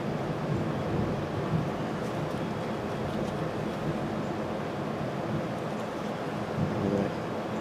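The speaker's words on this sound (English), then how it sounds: "we're getting some thunder out there" Low, rolling thunder rumbles steadily in the distance, blended with a constant wash of wind and rain noise.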